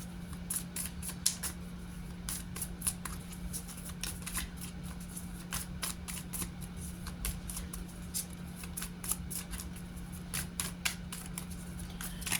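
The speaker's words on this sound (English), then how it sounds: "this is taking a while to shuffle" Rapid papery riffling of tarot cards being shuffled, a dense run of quick flicks and snaps continuing steadily, with a low steady hum underneath.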